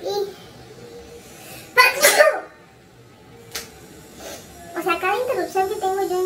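A single sharp sneeze bursts out close by, with soft voices murmuring before and after it.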